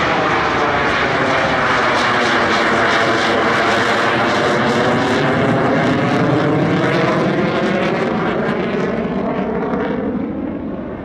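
A J-10 fighter jet performs a flying display at the LIMA Langkawi airshow, a loud, sustained engine roar with a sweeping pitch shift as it passes, steady and close throughout.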